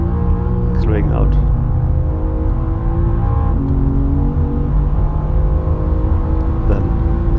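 A BMW CSL accelerates in third gear out of a corner at the Nordschleife, its engine drone loud and steady under continuous talk, with a sweeping pitch change near the start.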